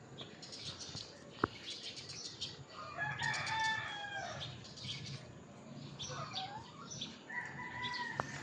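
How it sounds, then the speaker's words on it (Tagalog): A rooster crows at a Philippine home, with a couple of drawn-out calls that stand out over faint clucking and light background noise. No one speaks. "Barako po yan."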